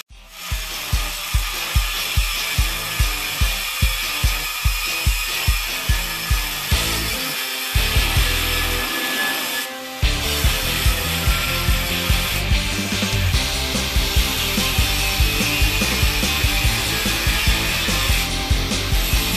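A power tool grinds and rasps through the steel shock bar of a 1955 Chevy's front suspension in repeated rhythmic strokes, then keeps cutting in a loud, continuous harsh whine.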